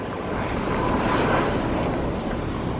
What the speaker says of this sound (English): when you see an Allegiant plane, he's hauling butt because he's 2 hours late